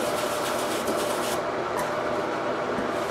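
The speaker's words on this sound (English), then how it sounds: "get some of this and just scrub it in with a toothbrush." Steady bristly rubbing of a toothbrush working homemade stain remover into a grease-stained t-shirt fresh from the dryer, a continuous close scratchy scrub with no talk.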